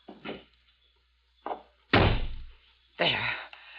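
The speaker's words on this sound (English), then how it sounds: "stand aside while I release the brake and close the door." Sound effects for an old-time radio mystery drama: a car's brake is released and the car door is closed, heard as several separate heavy thunks and a loud slam with short gaps between them and no talking.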